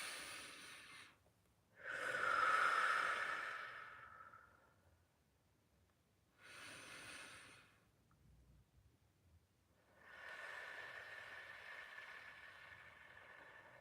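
Slow, deep breaths in a quiet room: a long, strong breath, then two softer breaths separated by pauses, each drawn out over a few seconds with no talking.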